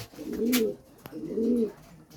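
Two deep, throaty pigeon coos, one after another and close up, with a faint click between them.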